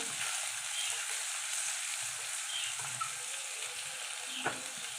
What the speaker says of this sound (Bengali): তো এগুলোকে ভালো করে মিশে করবো, ভাজবো।